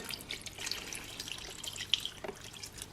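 Water running from a kitchen tap into a pot for cooking spaghetti noodles, a soft steady splashing stream with small drips, faint and alone.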